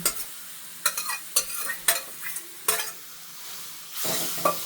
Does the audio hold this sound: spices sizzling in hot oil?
yes